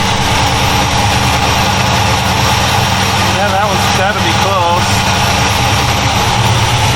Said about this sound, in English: so now it's idling high